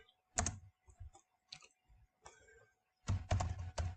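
Keys clatter on a computer keyboard in quick bursts of typing separated by short pauses, close and fairly loud, with a longer, denser run of keystrokes at the end.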